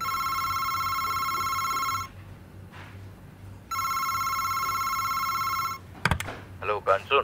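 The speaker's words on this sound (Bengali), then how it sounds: "এমন সময় ফোনটা বেজে উঠল।" An office desk telephone rings in two long, loud electronic bursts separated by a short pause, followed by a clatter as the receiver is picked up and a voice begins speaking.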